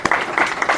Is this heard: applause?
yes